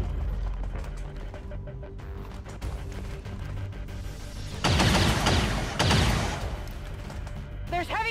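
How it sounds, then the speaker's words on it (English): Heavy gunfire from a battle in the video game XCOM 2: War of the Chosen, a low rumbling background that erupts into a loud, dense burst of shots for about two seconds, then trails off into scattered impacts. "There's heavy fire in this zone!"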